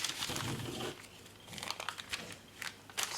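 Decorative craft paper crinkles and tears up close in a quick flurry of crackling rips and crumpling, fairly soft with no talking.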